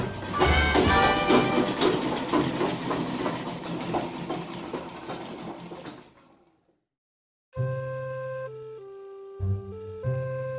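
A train runs with dense rumbling clatter that stays loud for about six seconds, then fades out, followed after a short silence by sustained tonal music.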